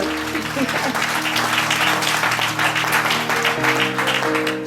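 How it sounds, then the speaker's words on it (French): Dense, sustained applause from a large church congregation at a prophetic service fills the space, steady and loud, with a sustained musical tone and voices underneath. "Let's clap for him."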